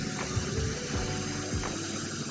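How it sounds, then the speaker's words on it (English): Wrench working a fender bolt on a Rad Power RadRunner e-bike, a series of close ratcheting clicks in short repeated strokes. "what I'm going to do is have to remove this bolt holding my fender"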